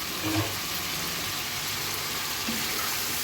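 Chopped tomatoes sautéing in a pan for an egg and potato dal give a steady, faint hiss that stays even throughout, with no voices.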